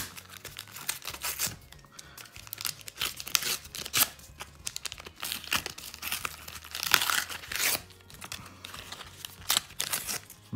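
A MetaZoo Wilderness trading card booster pack is torn and crinkled open, a busy stream of ripping and rustling foil that runs steadily for several seconds, close and fairly loud.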